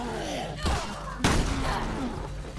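Gunfire in the Resident Evil Revelations 2 co-op game: two sharp shots, a lighter one then a louder blast, over a steady rumble of game sound.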